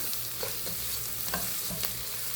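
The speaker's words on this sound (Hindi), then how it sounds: "इसे 1-2 मिनट तक फ्राई करेंगे।" Chopped pieces of capsicum hiss and sizzle steadily in a hot pan, with a few soft scraping stirs cutting through the dense, constant frying noise.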